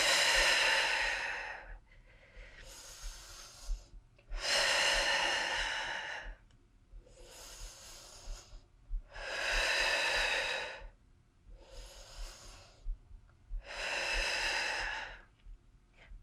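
Slow, deep breaths during a step stool workout, long airy inhales and exhales alternating in a steady rhythm with short pauses between, close and fairly loud, about seven breaths with no talking.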